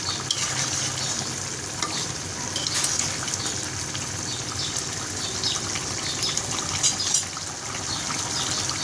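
Shing and tangra fish curry bubbles and sizzles in a pan as ground cumin is stirred in. A continuous, close simmering hiss carries small scraping accents and no talking.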